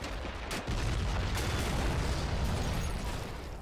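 Gunfire and explosions in a toy army men battle video game on a huge fantasy castle map, a dense continuous barrage of booms and pops, loud and sustained throughout with no talk.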